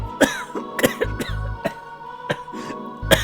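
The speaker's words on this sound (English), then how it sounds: "I was supposed to be fake coughing, but it turned into real coughing." A person coughing repeatedly in a bar setting, several sharp hacking bursts spread unevenly across the moment, fairly close, with a low background hum and some throat-clearing sounds between them.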